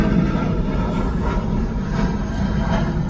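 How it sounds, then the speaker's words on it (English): Airplane passing loudly at an airport, a heavy continuous jet roar filling the whole stretch at steady high volume, close by, with no talking. "I know the planes are loud."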